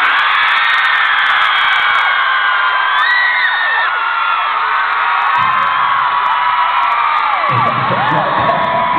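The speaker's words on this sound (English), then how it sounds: "I just need to hear how loud you can scream." A concert crowd at a live show screams loudly and continuously, a dense wall of high-pitched shrieks and whoops sustained throughout and up close.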